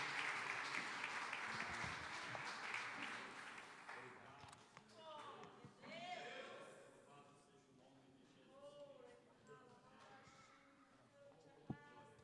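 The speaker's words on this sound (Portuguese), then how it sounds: "Vamos receber o homem de Deus com as palmas" A church youth-gathering audience claps to welcome a preacher. The applause is strongest at first, then thins into scattered claps while a voice speaks or sings over it.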